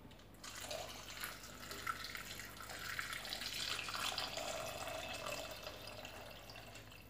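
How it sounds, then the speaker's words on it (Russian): Water is poured into a Thermomix bowl while making potato soup, a soft continuous splashing and trickling stream that swells in the middle, heard close and fairly quiet. "Теперь добавляем 1 литр воды."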